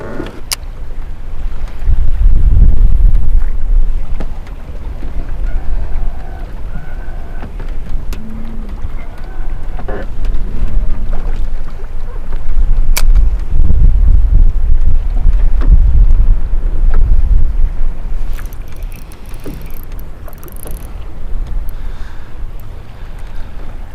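Strong wind buffets the microphone while water laps against a small fishing boat on a fall bluegill outing, with heavy gusts swelling and fading throughout and no voices.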